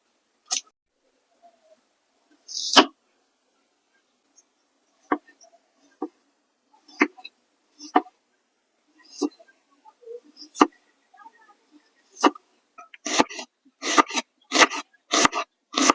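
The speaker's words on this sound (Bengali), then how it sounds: "এবার এই শুটকি রান্নার জন্য আমি এখানে প্রথমে পেঁয়াজটা কেটে নিচ্ছি।" Onions for a dried fish (loitta shutki) dish are cut with a knife: sparse, sharp chops that come faster and closer together toward the end, with quiet pauses between them and no talk.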